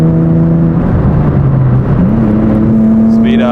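Loud, close engine of a track-built BMW E36 pulling hard in third gear after a downshift, its pitch climbing steadily as it accelerates, with a voice briefly heard.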